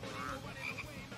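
Toads croak in the Jujutsu Kaisen anime, a raspy, continuous croaking over a dense, noisy soundtrack.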